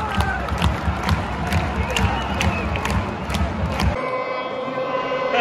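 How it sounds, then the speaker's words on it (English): A large football stadium crowd of around 7000 ultras roars and cheers at a women's match, with dense, loud sustained chanting and shouts that cut off abruptly near the end, leaving a quieter hum. "What a crowd that is."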